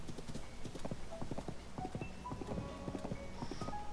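Horse hooves galloping in the video game Zelda: Tears of the Kingdom, a steady run of quick rhythmic clip-clops at moderate distance, fairly quiet, with faint game chimes scattered over it.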